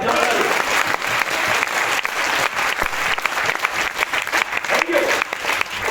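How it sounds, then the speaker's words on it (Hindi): An audience seated in a hall applauding during a motivational talk, a thick continuous clatter of many hands, loud and fairly close, with a voice briefly cutting through. "ताली बजाओ ना यार"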